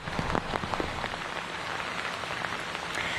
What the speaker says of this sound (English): the rain, again, picking up right now